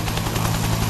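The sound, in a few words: helicopter hovering in a video game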